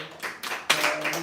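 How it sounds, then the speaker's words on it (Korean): A congregation claps during a Sunday church service for Children's Day, a short burst of several quick hand claps in a room that swells and then stops after about a second. "박수 한번 해."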